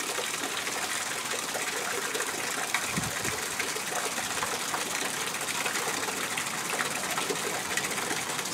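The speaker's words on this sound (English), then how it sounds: "This is Sweet Spring." Water from Sweet Spring in Eureka Springs flows in a steady, broadband rush that holds even and continuous throughout, close by and fairly loud, with no voices over it.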